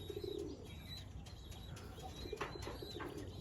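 Caged pigeons, a mix of round-headed Golla and Giribaj birds, give soft low cooing close by, with a few brief chirps and a faint wing flutter over steady background noise.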